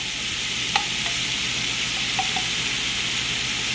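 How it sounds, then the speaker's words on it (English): A tablespoon of minced garlic sizzles in a pan for chicken gnocchi, a continuous even hiss with a few light spoon clicks as it is stirred around. "So I'm going to go ahead and stir that up."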